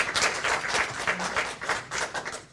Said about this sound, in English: Folks, I am going to ask you to refrain from the applause, please.